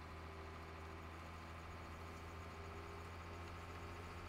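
A tractor in Farming Simulator 17 idles with a steady, low, droning hum that stays even and unbroken throughout, quiet and alone.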